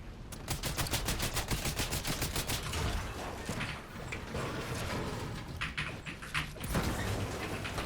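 Rapid bursts of gunfire from a Fortnite match, including pump shotgun blasts, crack out in a dense repeated volley through the first half, then scattered shots and clatter continue at close range.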